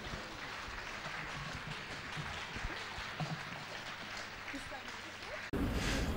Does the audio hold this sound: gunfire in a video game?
no